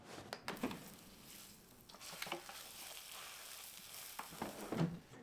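A double cut pork chop being flipped inside a Typhur Dome 2 air fryer, with soft intermittent clicks, shuffling and handling noises over a faint sizzle, fairly quiet and with no speech.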